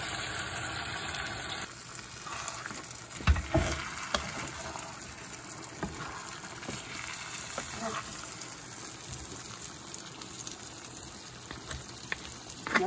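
Hot water is poured into a simmering pot of Gobindobhog rice and fish heads, a soft splashing gush beneath a steady background hum, with a person talking over it.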